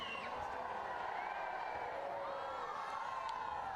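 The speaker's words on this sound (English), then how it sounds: "enjoying the support from the crowd." Spectators at a wheelchair fencing match between Italy and Brazil cheer steadily, a continuous distant roar of a large arena crowd with a commentator talking over it.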